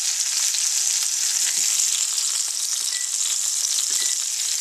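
Halibut fillet frying in hot oil on a Fry 45 fryer, a loud, steady, close sizzle with fine crackling that runs unbroken and evenly throughout.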